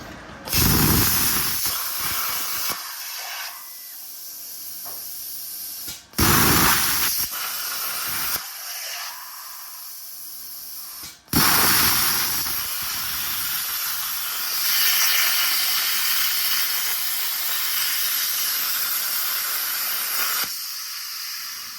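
Steel brackets for suspension fabrication being cut out, a harsh continuous hissing, grinding roar in several long passes separated by short pauses, loud and close, with no speech.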